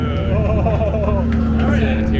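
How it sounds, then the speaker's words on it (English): A 2023 Corvette Z06 engine revving loudly up and down close by, with a deep throaty growl and a voice talking over it. "Is this engine, doesn't it sound so?"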